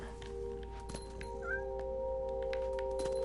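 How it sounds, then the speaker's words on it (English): A frustrated cat meows once in the video game What Remains of Edith Finch, a short rising cry over a steady hum of game ambience and faint clicks. "Frustrated cat."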